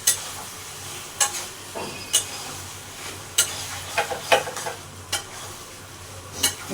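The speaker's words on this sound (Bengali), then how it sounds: "ভালো করে সোয়াবিনটা আর মশলাগুলো মিলিয়ে দিতে হয়" Soybean chunks being stirred with spices in a hot pan, a steady sizzle and hiss broken by repeated sharp scrapes and knocks of the spoon at irregular intervals, close and fairly loud, no talking.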